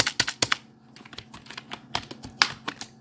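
Quick, irregular clicks of fingers typing on a computer keyboard while editing CSS code, ending with the Ctrl+S save shortcut, close and clear with no talking.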